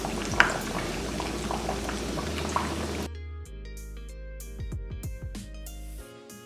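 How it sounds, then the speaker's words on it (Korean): Hot oil sizzles loudly around a pork cutlet deep-frying for about three seconds, then the crackle cuts away to quieter, sparser bubbling with a few faint tones. "식으면은 한 번씩 더 튀겨 보겠습니다."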